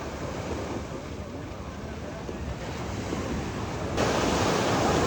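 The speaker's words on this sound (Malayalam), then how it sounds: "ഈ തിരമാല ഇങ്ങനെ വന്ന് അടിച്ചുകൊണ്ടിരിക്കുക" Ocean waves breaking on Kappil beach, a steady close roar of surf mixed with wind buffeting the microphone, swelling louder in the final second.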